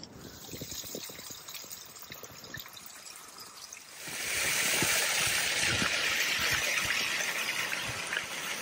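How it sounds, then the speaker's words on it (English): Water pours from a small waterfall beside a hiking trail in the Appalachian mountains after heavy rain; a light trickle swells midway into a loud, steady rushing flow close by, with no talking. "that's a nice flow of water there."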